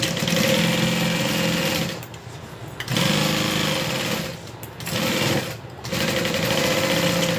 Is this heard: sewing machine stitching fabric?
yes